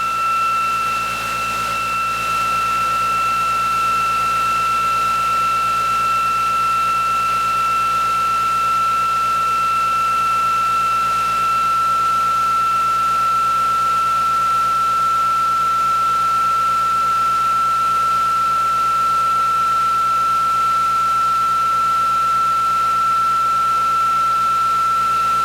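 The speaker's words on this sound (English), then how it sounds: "So now I'm going to engage the ReGenX quantum motor" A ReGenX quantum motor running under no load at about 3,351 RPM gives a loud, steady whine with a constant high tone over a smooth hum, unchanging for the whole stretch and with no voices.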